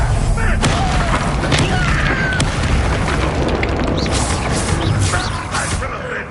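A Bombarda blasting spell explodes in Hogwarts Legacy on PS5, a loud, dense, rumbling blast that carries on as a steady roar throughout, with voices mixed in.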